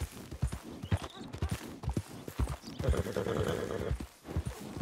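Horse hooves clop in quick rhythmic beats, then a horse whinnies loudly partway through, in the video game Red Dead Redemption 2, with a player's voice talking over the sounds.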